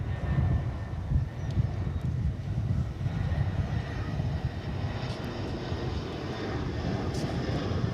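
An Airbus A319 airliner arrives at Dallas/Fort Worth Airport, its engines giving a continuous low roar that holds steady and fairly loud throughout, with no voices.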